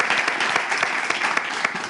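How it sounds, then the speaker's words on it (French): Audience applause at a French-language event, a steady dense wash of many hands clapping throughout, fairly loud and close, with no talk over it. "Nous le remercions avec des applaudissements."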